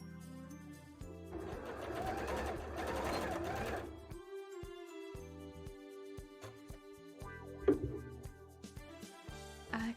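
A sewing machine top-stitches a bra, running in steady close-up bursts with a loud mechanical whir that stops and starts, with short pauses and a few clicks between runs.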